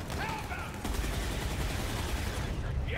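Rapid enemy gunfire in Borderlands 3 rattles in a dense, continuous burst of close shots, with a voice talking over part of it.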